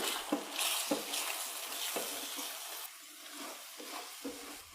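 Egg frying in a pan for egg rice, sizzling steadily while a utensil stirs and scrapes through it in repeated strokes, close and fairly quiet, with no talking.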